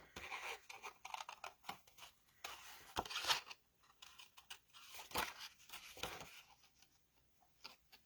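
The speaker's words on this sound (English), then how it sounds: "it's easier to cut if you move your paper and not your scissors." Scissors cutting paper while the paper is turned, shaping a stippled rose: soft, irregular snips and crinkly rustles, quiet and close, with short pauses between cuts.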